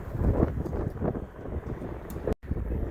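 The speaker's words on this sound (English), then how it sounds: "It's a little windy." Gusty wind at an auto salvage yard in Kingman, Arizona, buffets the microphone in uneven low rumbles and bursts, with a brief dropout near the end.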